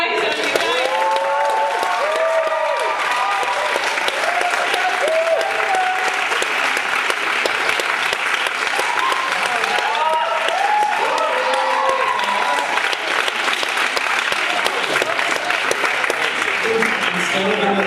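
Sustained audience applause at a school arts show, steady and dense for the whole stretch, with a few voices and cheers mixed in among the clapping.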